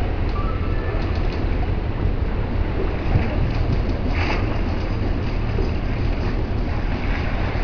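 Wind-driven waves slapping and churning in a swimming pool on a blustery day, a steady broadband rush of water and gusting wind with no pauses throughout.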